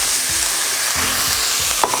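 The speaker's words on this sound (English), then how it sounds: "the first thing we need to do to get our cheeseburger macaroni going is to get our beef in the pan" Ground beef, an 80/20 blend, sizzles in a hot skillet with a steady, loud hiss and a few soft scraping stirs.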